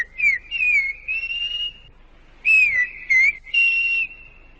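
Silbo Gomero, the whistled language of La Gomera in the Canary Islands: two phrases of sharp, gliding high whistles, each with several short rising and falling notes, clear and close with brief pauses between them.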